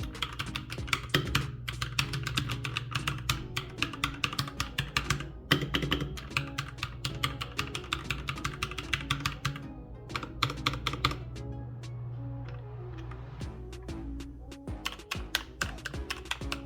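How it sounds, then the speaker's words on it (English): Rapid clacky keystrokes on an RK84 wireless mechanical keyboard with ABS double-shot keycaps, typed in bursts with short pauses, close and crisp, alone without speech. "Now, let's test the typing sound."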